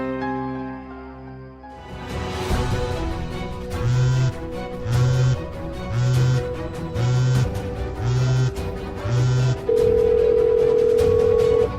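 A phone call goes unanswered, with a dial tone giving way to a steady pattern of repeated ringback tones in evenly spaced bursts over roughly ten seconds, clear and close, with no talking.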